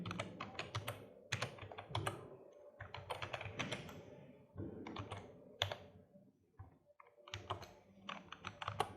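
Computer keyboard typing Arduino code for a seven segment display counter: close, brisk clusters of key clicks in bursts separated by brief pauses, with no talk over them.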